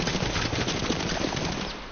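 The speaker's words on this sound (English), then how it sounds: "I'm getting shot at" Rapid machine-gun fire aimed at the player in a video game, dense continuous bursts of shots, loud and close, with no talking.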